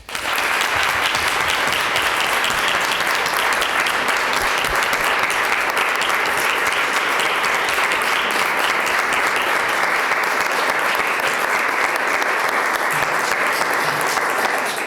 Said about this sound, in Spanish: Y para ellos quiero un gran aplauso.